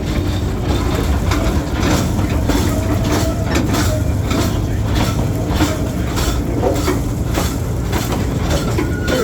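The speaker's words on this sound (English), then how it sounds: "It's kind of neat here, park train here." Capital Railway park train ride at Six Flags America, heard aboard: a steady rumble of wheels on rails with rhythmic clacking and a low engine drone running continuously at close range, with faint voices underneath.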